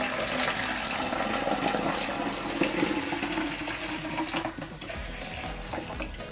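Water is poured into a container to wash silver paint off a Barbie doll, making a continuous splashing, gushing stream that runs for several seconds and eases off near the end, with no talking.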